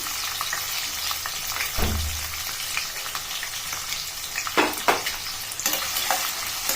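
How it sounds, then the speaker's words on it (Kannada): Onions frying in hot oil with cinnamon and cloves, a steady close sizzle with a few stirring scrapes and clatters, no talking. "ಸ್ವಲ್ಪ ಚಕ್ಕೆ ಲವಂಗ ಸ್ವಲ್ಪ ಎಣ್ಣೆಯಲ್ಲಿ ಬಾಡಬೇಕು ಆಮೇಲೆ ಎತ್ತಿಟ್ಕೊಂಡಿರ್ತಕ್ಕಂಥ ಈರುಳ್ಳಿನ ಹಾಕೋಣ"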